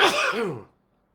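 A single explosive sneeze right up close, a sharp noisy burst with a short voiced tail that cuts off abruptly into silence.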